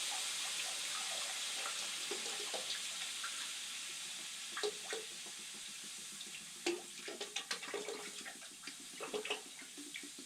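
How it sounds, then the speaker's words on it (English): Hydrogen peroxide dumped from a large bottle into a pot of water for boiling a whitetail deer skull, a steady watery pour with scattered splashes and drips growing more frequent toward the end. "This is a big bottle of peroxide right here. We're going to put that in there. Just dump that in."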